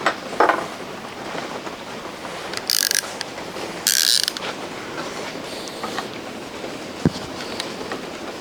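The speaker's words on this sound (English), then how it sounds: "Let's get a socket on that one" Socket wrench ratcheting on a snug bolt while a Chevy 350 V8 from a 1983 K10 is torn down, heard as two short bursts of clicking close by with quieter workshop clatter around them.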